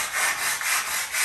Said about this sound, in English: And you just slightly sand the edges.